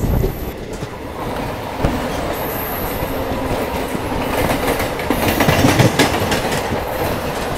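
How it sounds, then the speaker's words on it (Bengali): Kanchanjungha Express, the 13173 Sealdah–Agartala train, runs past Shaktigarh with a continuous loud rolling rumble, steady rail clatter and occasional sharper knocks, heard from inside a carriage. "আমাদের ট্রেন এই মুহূর্তে পার করছে শক্তিগড়"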